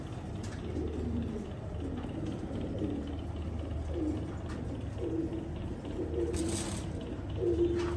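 Racing pigeons coo softly in a loft, with low repeated calls spread through the stretch, a brief bright chirp near the end and faint background hiss under them.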